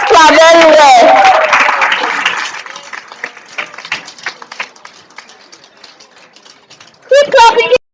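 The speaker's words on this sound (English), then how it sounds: "Let's clap very well." An audience at a real estate training course applauds, with a voice talking over the start, then thinning claps that trail off before speech returns at the end.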